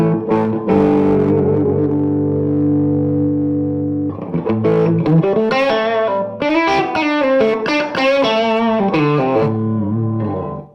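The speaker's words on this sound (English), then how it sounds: "I've got a quasi-dirty clean channel in that case." Electric guitar through a Fuchs amp on a quasi-dirty clean channel, with gain boost and tone stack bypass engaged and master volume lowered; sustained chords ring out, then a busier run of bright, lightly driven notes, loud and alone.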